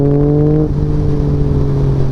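A 2021 Yamaha MT-09 motorcycle with a freshly flashed ECU roars at high engine speed while being ridden, a loud, steady droning tone that dips briefly in pitch and then holds.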